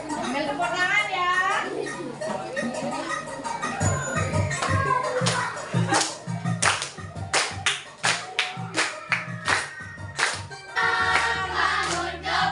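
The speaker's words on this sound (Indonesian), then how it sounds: "Ambil tepuk tangan ya." Children in an elementary school class clap hands in rhythm as a group song begins, sharp repeated claps mixed with young voices singing and a teacher talking.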